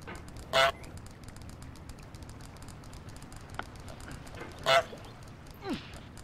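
Cartoonish goose honks from the video game Goose vs Getting Over It: two loud, separate honks about four seconds apart, followed by a fainter third call, over a quiet game background.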